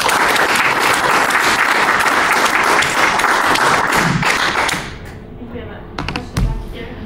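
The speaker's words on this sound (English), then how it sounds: "Let's give a round of applause for Neon." Audience applause for a speaker at a community talk on Micronesians in Hawaii, loud and sustained for about five seconds, then fading out to scattered thumps and faint murmurs.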